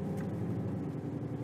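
A car engine runs steadily at low revs, a close continuous rumble with no other sound over it.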